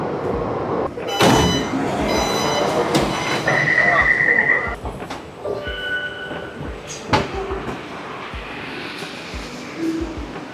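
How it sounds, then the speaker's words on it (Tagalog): Train at a Taipei station, rumbling close by with squealing wheels and high tonal whines as it moves, plus a door-like slide and clunks, with a busy platform murmur and some voices in the background. "Open na yung isang train."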